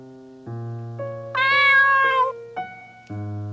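A cat meows several times in a row, close and clear, with long drawn-out cries rising and falling in pitch.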